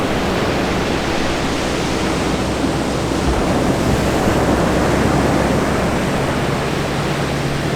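Ocean waves wash steadily onto the beach at Sandy Cape on Fraser Island as the tide comes in fast, giving a loud, continuous broadband roar of surf with light wind, and no voices.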